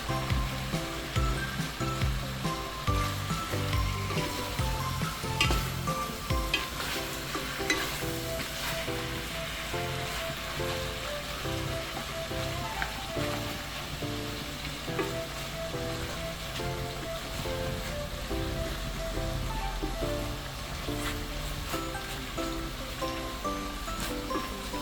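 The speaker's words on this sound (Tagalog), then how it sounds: "ilalagay ko na yung bagoong. Igigisa ko na siya dito." Shrimp paste (bagoong) sautéing in a pan for chicken, a continuous dense sizzle heard up close, steady and fairly loud throughout with music playing underneath.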